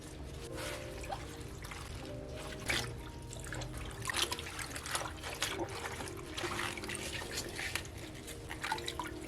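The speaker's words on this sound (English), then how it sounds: "Washing them properly is crucial to avoid any dirt or pesticides." Fresh lettuce and coriander are rinsed under running tap water, a steady close trickle and splash of water over the leaves with light handling noise throughout.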